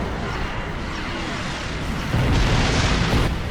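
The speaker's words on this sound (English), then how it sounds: "The Heralds are firing on the portal!" Weapon fire from hostile Heralds slams into an open time portal in a video game, a dense roaring barrage that grows heavier and louder partway through, with no talk.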